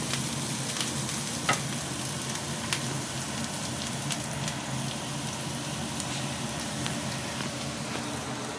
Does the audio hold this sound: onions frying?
yes